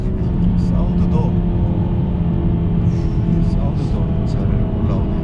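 A Renault SM6 with a 1.6 TCe gasoline engine accelerating, its engine producing a steady, loud, deep rumble heard from inside the car that holds throughout.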